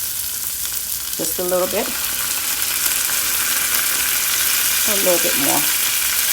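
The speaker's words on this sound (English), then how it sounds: "So I'm going to deglaze with some wine." Wine hits a hot pan of seared salmon for a creamy tomato sauce, giving a steady, close hiss of sizzling throughout, with a person speaking briefly twice over it.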